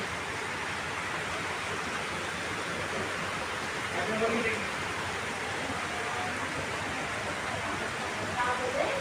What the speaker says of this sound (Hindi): यहाँ देखिए गाइस, बहुत तेज बारिश पड़ रही,